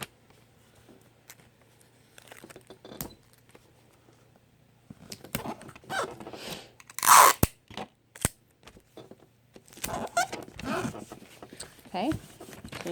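Packing tape pulled off a roll and pressed onto folded catalog paper: a sharp screeching tape rip stands out, among softer paper crinkles and rustles, with a person talking quietly throughout.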